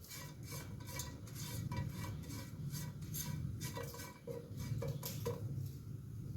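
Utensil stirring chicken wing drippings into a coating sauce in a home kitchen, a steady scraping swirl with light clinks, close and continuous throughout.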